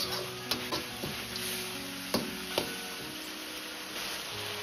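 Spices stir-fried in a wok after a splash of cooking wine, while preparing big-plate chicken: a steady close sizzle with a few sharp scraping and clinking strokes of the spatula, no talk.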